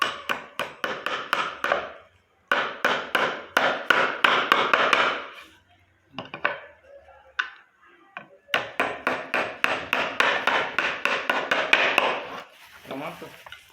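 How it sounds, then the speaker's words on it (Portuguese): A hammer strikes metal repeatedly during a wheel-removal repair for a strange noise, fast bursts of sharp clanks in long runs with short pauses, close and loud. "Pega o martelo, ó."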